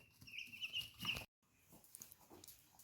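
Meat chicks just over three weeks old peep and cluck softly nearby, with high chirps running together before a brief moment of silence, then quieter chatter.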